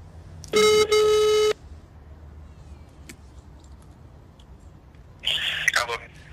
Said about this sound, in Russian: Soitamme Serhii Antonoville ja kysymme, miksi hänen toimistonsa ei avustanut Olhaa